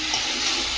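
Water pours steadily into a cooking pot of browned meat being cooked at home, a continuous splashing rush that stays even and close for under a second.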